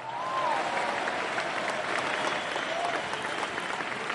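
An audience applauds steadily for President Evo Morales, a dense, continuous clapping crowd lasting several seconds with no break.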